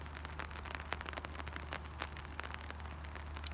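Steady rain falling outdoors at a church entrance on a mountain viewpoint, a dense continuous patter with scattered sharper drops over a low constant rumble, no talking.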